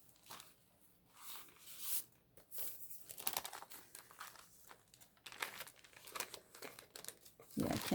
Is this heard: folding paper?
yes